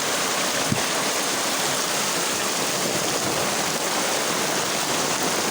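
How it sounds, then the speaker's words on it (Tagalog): Heavy rain pours down in a loud, continuous broadband wash, with no voices or pauses. "Ay ulan. Malakas."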